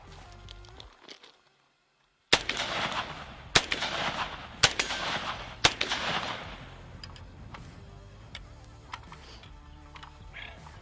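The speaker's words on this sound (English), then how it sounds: "So, Clean, would you like to put a few rounds through this baby?" A .50 Beowulf AK rifle fires outdoors in several loud, heavy booming shots, spaced a second or so apart, each trailing a rolling echo, after a brief lull; quieter sounds follow.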